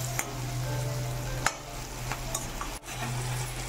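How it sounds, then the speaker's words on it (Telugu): Onions frying with a little salt in a pan, a steady close sizzle with occasional spatula clicks and a low background hum. "ఇవన్నీ కూడా గోల్డెన్ బ్రౌన్ కలర్ వచ్చేంత వరకు మనం వేయించుకుందాం."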